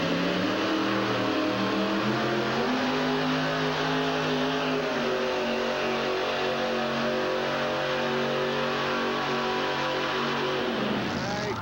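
Lime green monster truck with a Ford cab and Chevy engine pulling off the start at a 1989 USHRA event, a loud sustained engine roar with rising revs, accompanied by an announcer's voice.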